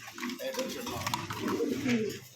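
A pair of yellow-faced domestic pigeons give soft, low cooing calls close by, faint and brief, with quiet talk in the background.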